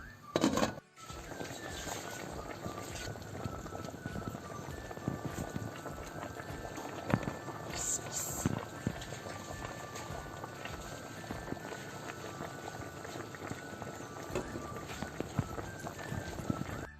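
Tomato and pepper dolma simmer in a pot, a continuous close bubbling with soft pops and a few clinks of the lid or pot throughout.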